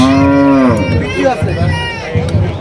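A Sahiwal bull lets out a loud, drawn-out moo close by at a cattle market in Comilla, Bangladesh, followed by murmuring voices and crowd noise of people talking in the background.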